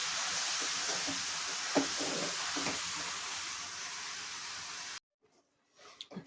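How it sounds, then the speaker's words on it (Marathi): Grated carrots sautéing in ghee over medium heat, a steady sizzling hiss with a few soft stirring knocks, then cutting off abruptly into near silence and a couple of faint clatters. "छान तुपात परतून घेऊया."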